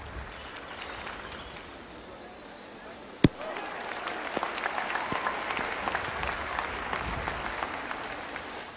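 Crowd applause in the Kinect Sports Season Two golf game on Xbox 360 rises after a sharp club strike, then continues as a steady, moderately loud clapping wash with scattered cheers.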